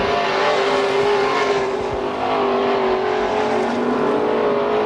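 Race cars in a heat race at Billings Motorsports Park, a loud, sustained engine drone with steady tones shifting slightly in pitch as the cars lap past.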